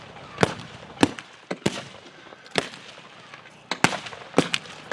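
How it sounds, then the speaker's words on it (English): German 77mm artillery battery firing at a World War One battle reenactment, heard from about a kilometre off as a string of sharp distant booms, roughly eight to ten irregular blasts with brief echoing tails. "A German artillery battery, the 77mm battery, has come in, and they are firing from about a kilometre away"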